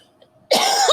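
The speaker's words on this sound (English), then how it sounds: "I started coughing again" A single sharp, close cough bursts out after a half second of near silence and fills the rest of the moment.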